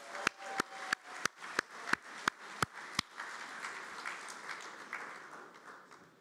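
At a programming contest closing ceremony, an audience applauds as the Tel Aviv University team is called on stage. A few sharp, evenly spaced claps sound close by, then a softer, continuous round of crowd applause carries on alone.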